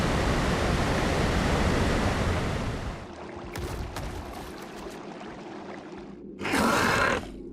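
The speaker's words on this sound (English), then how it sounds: "Waterfall." A waterfall in ARK: Survival Evolved on the Aberration map gives a steady loud rush of falling water that fades to a quieter wash, then briefly surges again near the end.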